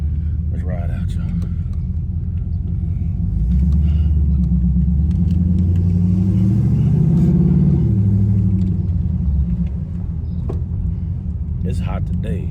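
An LS-swapped Chevrolet Monte Carlo rumbles steadily from inside the cabin as it drives off, its low engine note rising and falling with acceleration, loud and continuous throughout.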